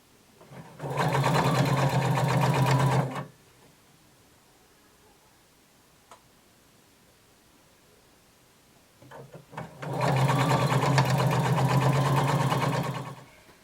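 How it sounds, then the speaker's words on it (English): A sewing machine stitches around a skirt lining hem in two steady bursts of a few seconds each, with a quiet pause between them. The machine is close and clear, and no one speaks. "I'm going to sew all the way around my lining, close to the folded edge."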